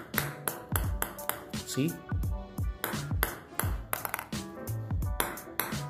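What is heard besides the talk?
Butterfly 40 Plus table tennis ball bouncing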